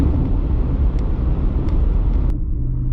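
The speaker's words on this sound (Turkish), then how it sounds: "Aracı tekrardan bu kısımda bir hızlandıralım" A 2022 Subaru Outback accelerating, a loud, steady low engine and road rumble heard from inside, with a few faint ticks and a slight drop near the end, no talk.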